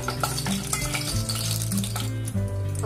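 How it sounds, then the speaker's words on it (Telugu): Whole spices, cinnamon stick, two cloves, marathi moggu and a bay leaf, sizzle and crackle in hot oil in a pan, a dense close frying hiss with scattered pops and metallic stirring clinks. "ఇవన్నీ వేసేసి బాగా ఫ్రై చేసుకోవాలి."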